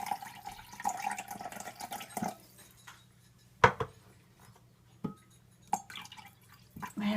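Liquid for spaghetti sauce splashes into a rice cooker, heard as scattered close drips and small splashes with quiet gaps and a few sharper plops.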